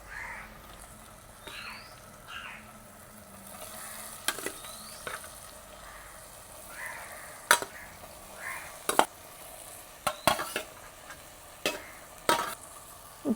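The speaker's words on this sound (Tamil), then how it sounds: "இப்படியே நாங்கள் எல்லாத்தோடையும் சேர்கிற மாதிரி கிண்டி கொள்ளுவோம்." Prawns are stirred into a tomato masala in a pan, a soft sizzle running throughout with intermittent scraping clicks of a utensil against the pan, growing more frequent toward the end.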